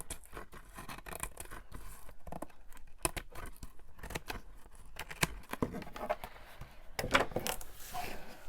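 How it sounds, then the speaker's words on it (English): Scissors cut and trim around a hard book cover for a botanical journal, producing quiet, irregular snips and papery rustles and scrapes, close by and faint, with no talking. "There's a problem when you're trying to cut something that is hard on the one side, doesn't bend when your scissors come"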